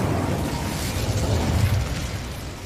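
Incendio fire spell cast in a Hogwarts wizarding video game: a sustained whooshing, rumbling burst of flame, moderately loud and continuous, with no voices.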